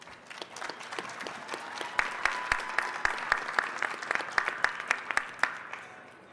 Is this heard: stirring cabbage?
no